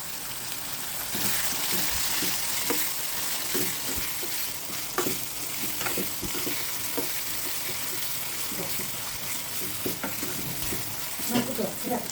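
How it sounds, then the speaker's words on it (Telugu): Potato, tomato and turmeric frying in a pan while being stirred, a steady bright sizzle with scattered scraping and clinking stirring strokes, with someone speaking quietly over it. "కొంచెం ఆలు ఇలా వేసుకొని కలిపేసుకోవాలి. టమాటో యాడ్ చేసుకోవాలి."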